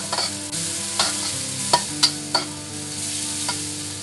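Shallots sizzle in melted fat in a pan, a steady close frying hiss broken by a handful of sharp spatula taps and scrapes against the metal, with no speech.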